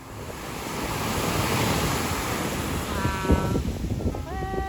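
Ocean waves roll steadily onto a beach on Oahu at twilight, a continuous broad wash of surf with wind noise buffeting the microphone and a faint tonal whine near the end.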